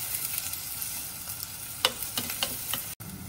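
Onions sautéing in oil with mustard seeds and curry leaves for a South Indian fish kulambu, a steady close sizzle with a few sharp scraping strokes from stirring, and a brief dropout near the end, with no talking.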